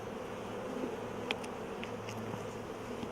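Honey bees buzz steadily during a beehive inspection, a soft, continuous hum with a few sharper close passes of individual bees near the listener and no talking.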